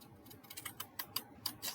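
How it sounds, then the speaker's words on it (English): Scissors cutting paper for a panel card, a quick run of faint, crisp snips and ticks, close and quiet, about half a dozen small cuts in under two seconds. "I'm going to cut now, and I'm putting the points of my scissors just next to"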